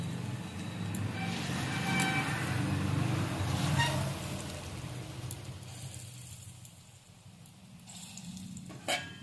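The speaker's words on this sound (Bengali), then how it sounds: "বাকিগুলো ভেজে নিচ্ছি" Pea dahi bara fritters frying in hot oil give a steady, dense sizzle, loudest early and gradually thinning toward the end, with a small clack near the close.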